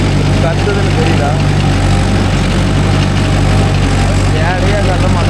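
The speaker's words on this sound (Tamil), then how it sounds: "தெரியுதா உங்களுக்கு வண்டி எப்படி கத்துதுன்னு தெரியுதா?" A Mahindra Yuvo Tech Plus 585 4WD shuttle-gear tractor engine labors under heavy load in second gear while pulling a cultivator, a loud, continuous low roar close by with a voice talking over it.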